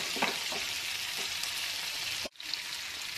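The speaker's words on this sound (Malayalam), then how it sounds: "ഇനി നമുക്ക് ഇതിലേക്ക് ക്യാപ്സിക്കം ആഡ് ചെയ്യാം. ഒന്ന് ഇളക്കി കൊടുക്കാം." Capsicum stirred into chilli prawns frying in a pan, a bright, steady sizzle with a few soft spatula knocks and a brief drop in sound near the end, close by.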